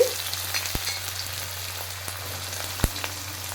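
Chopped garlic and onions fry in hot oil with a soft, steady sizzle, broken by a couple of sharp clicks and taps, and no one speaks.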